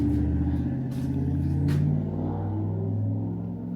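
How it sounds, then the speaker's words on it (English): Cars pass along a road outside a home during an at-home exhaust port cleaning job, giving a steady, fairly loud low engine rumble with a slight swell of passing traffic and no talk. "cars are passing by"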